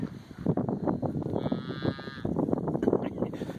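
A cow bellows nearby on a farm, one drawn-out moo in the middle with rustling and handling noise around it.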